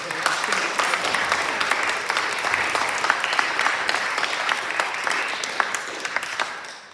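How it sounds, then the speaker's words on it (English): Lecture audience applause after a talk on science and God with Professor Bill Clegg: a full room clapping steadily and fairly close, the sharp hand claps dense and even, fading slightly at the very end. "Can we have a round of applause?"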